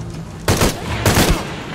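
Two loud, close bursts of gunfire in the video game Shadow of the Tomb Raider, about half a second apart, over a low background rumble.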